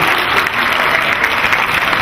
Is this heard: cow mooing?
no